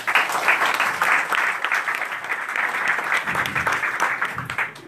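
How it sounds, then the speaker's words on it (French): An audience at a hairdressing school's diploma ceremony applauds graduates with brisk, continuous clapping that stays loud throughout. "Donc eux aussi, il faut applaudir pour eux aussi."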